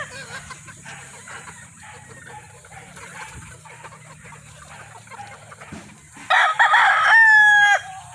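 Gamefowl roosters and chickens on a farm, with scattered clucks and calls throughout and a loud, close rooster crow near the end.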